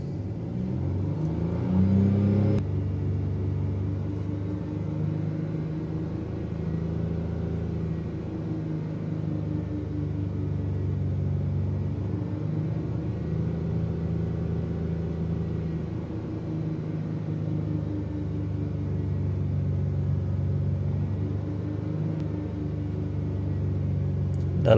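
A Proton Saga 1.5L I-GT engine held at about 3000 RPM gives a steady, low, even hum with slight swells in pitch, heard from inside the car, no talking.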